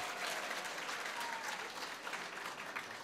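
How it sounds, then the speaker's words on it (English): An audience claps together at a community leadership gathering, a steady, fairly distant patter of many hands that holds evenly throughout. "Let's clap for ourselves."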